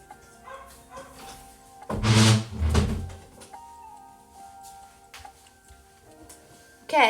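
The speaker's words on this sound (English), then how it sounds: "I'm quickly going to close the door" An indoor door swings shut with a loud thump and rattle near the middle, with a dog's barking faintly nearby before and after and room noise throughout.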